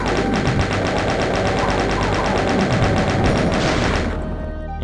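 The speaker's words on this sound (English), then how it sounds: "I used the chain gun on him." Rapid chaingun fire from Doom II, a loud, steady stream of evenly spaced shots running for about four seconds before cutting off abruptly, leaving a short tail.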